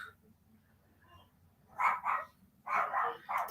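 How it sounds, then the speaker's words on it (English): Dogs bark a few times at a distance, in two short clusters of sharp yaps over a low background hum, with nothing else happening in between. "dogs are going crazy"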